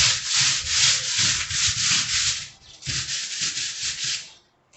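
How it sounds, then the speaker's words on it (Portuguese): Small sander running over a marble-effect plaster surface, loud gritty hissing abrasion in rhythmic passes with a brief dip midway, then winding down to quiet at the end. "Essa lixadeira é bom que ela pega só na superfície."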